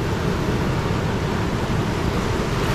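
Small, gentle sea waves washing onto a beach in Agno, Pangasinan, heard as a steady, close roar of surf and water noise with wind buffeting the microphone and no pauses.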